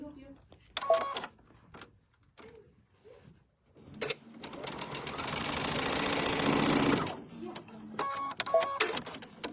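A sewing machine runs a steady close burst of about three seconds stitching across the corner of a pink square on a quilt block, with a person talking before and after.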